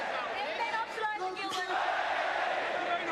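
Crowd cheering at a Pride Fighting Championships mixed martial arts event as punches land, a distant roar swelling under a commentator's voice.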